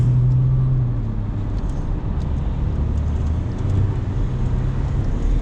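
A car followed by a motorbike passes on the steep San Bernardino Pass climb, a steady broadband roar of engines and road noise close by with a low droning hum throughout.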